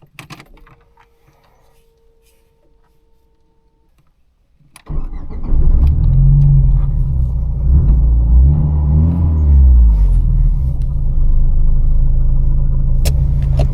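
A 1996 Škoda Felicia 1.3 MPI petrol engine sits quiet, then cranks and catches into a loud, steady idle with a brief rev, heard close and alone for the rest of the clip.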